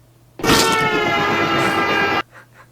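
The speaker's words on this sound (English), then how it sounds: "Next word. Trains." A train sounds a single sustained horn blast, loud and close, lasting nearly two seconds before cutting off, with a faint rumble around it.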